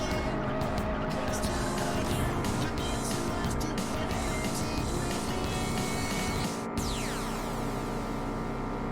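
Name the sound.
car drifting with tire squeal in video game Juiced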